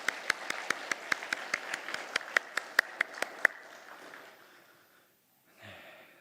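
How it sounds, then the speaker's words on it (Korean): A church congregation at a Wednesday worship service claps in a steady, evenly spaced rhythm for about three seconds. The claps then stop, leaving a quiet room with a faint rustle. "우리 박수로 격려합니다"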